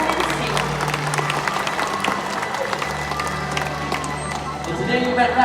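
An audience claps for bird conservation work at a raptor and scavenger presentation, a sustained patter of hands mixed with low crowd rumble and a faint background hum.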